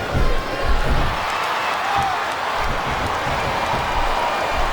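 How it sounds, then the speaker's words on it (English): A large video game crowd in a wrestling arena from WWE SmackDown vs. Raw 2007 roars in a dense, steady wash of noise, with a louder swell at the start. "It sounds like this capacity crowd has something on their minds, Taz."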